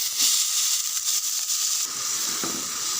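Chopped onions fry in hot oil with a steady, bright sizzling hiss that stays close and even throughout, with no voices over it.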